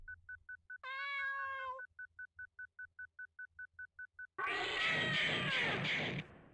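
A cat meows inside a video game, one drawn-out cry with clear harmonics over a rhythmic electronic beeping, then a loud burst of harsh noise follows.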